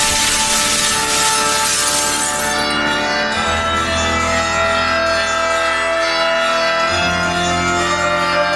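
Window glass shatters as a man jumps through it in a dramatized audiobook scene, a loud bright crash with ringing shards that fade into a dense, sustained musical backdrop.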